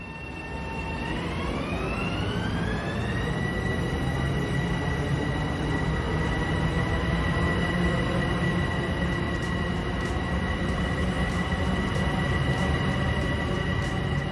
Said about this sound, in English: That whine you hear beneath the traction motors is from the freshly ground rails.